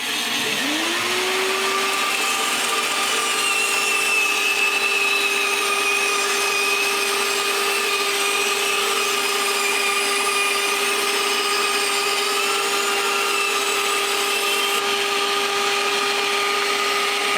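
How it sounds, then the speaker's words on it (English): A bandsaw cuts wood for a pendulum clock, the steady whine of the running blade settling into one continuous tone with a grinding cutting noise, loud and close throughout with no talk. "I've already adjusted the guide on the bandsaw so that this will fit under it, but fairly tight"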